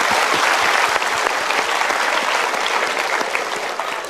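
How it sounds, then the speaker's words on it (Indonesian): Studio audience applauding at a televised motivational talk show, steady dense clapping filling the whole stretch, loud and close with no talk over it. "Oke, kita berikan tepuk tangan."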